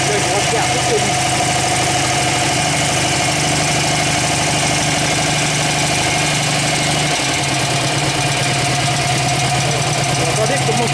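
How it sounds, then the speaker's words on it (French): The 750cc engine of a 1952 Panhard Dyna K187 utility van idles steadily and loudly nearby, running a little fast with a constant, even throb and a slight knocking texture. "Regardez comment il tourne super bien ce moteur"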